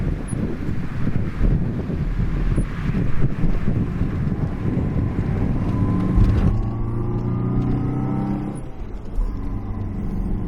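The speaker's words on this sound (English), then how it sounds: "That's third gear, pulling up the hill." A 1985 Subaru Brat GL pulls up a hill in third gear. Steady wind noise dominates at first, then the engine's rising drone comes through clearly.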